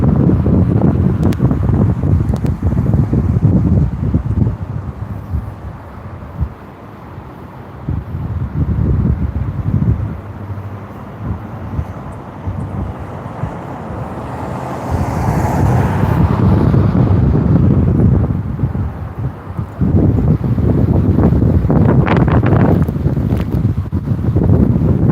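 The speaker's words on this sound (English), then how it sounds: "I like it when it's a little windy like this." Gusty wind pummels the microphone outdoors in loud, surging waves, with calmer stretches between the bursts.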